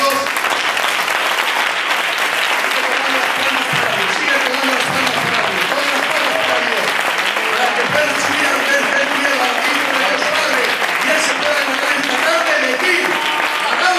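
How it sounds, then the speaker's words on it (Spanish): A church congregation in Almoradí claps for God, a loud, sustained wash of hand claps mixed with voices that may be singing, continuing without a break for over ten seconds. "A ver, ¿podéis tomar las palmas para Dios?"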